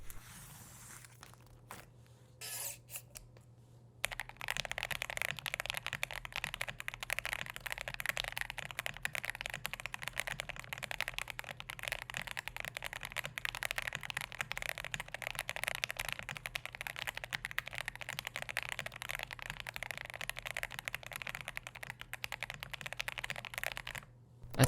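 Steady, continuous typing on a Windx98 mechanical keyboard with a taped PCB and green-jacket switches, dense clacking keystrokes close up after a brief quieter start, with no talking.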